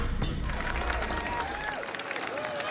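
Roadside crowd at a Tour de France stage in Belgium in 2012, a broad wash of applause and cheering with faint whistles, steady and fairly close.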